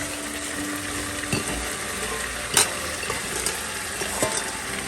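Peas go into a tomato masala frying in a pan, giving a steady sizzle with a few soft stirring scrapes and clicks, close and moderately loud.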